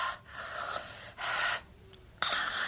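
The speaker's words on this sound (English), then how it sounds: "This is where her breathing gets heavier." Heavy, gasping breaths from a woman in a radio drama, drawn in several loud bursts with short pauses between, close and alone with no talk.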